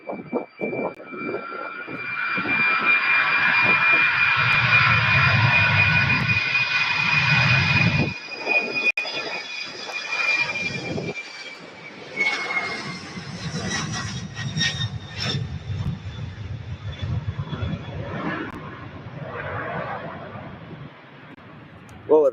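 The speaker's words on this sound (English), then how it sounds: "that was UPS flight 5952 headed out to San Jose, California. Operating on a Boeing 767-300." A UPS Boeing 767-300 jet takes off from Louisville airport, a loud near roar with a whining tone that swells, then fades into a broad rumble, with a voice talking over part of it.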